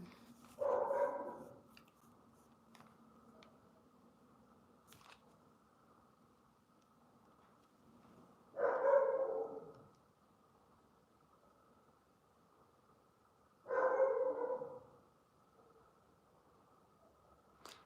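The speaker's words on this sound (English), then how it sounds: "that's not my dog. That's our security dog." A security dog barks three times, with long quiet gaps between the barks, over faint background hiss. Each bark is a moderately loud single burst at some distance.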